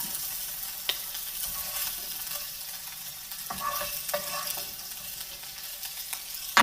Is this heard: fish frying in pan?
yes